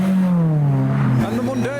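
Toyota Celica leaving a car show at night, engine note droning steadily close by and rising in pitch as it revs up to pull away.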